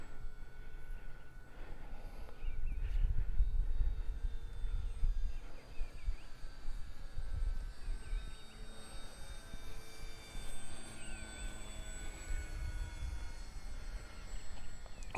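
A large Arrows Bigfoot RC airplane on its maiden flight, heard as a steady, droning engine overhead with a faint whine that shifts slightly in pitch. It stays continuous and moderately loud throughout, with outdoor background noise and no talk.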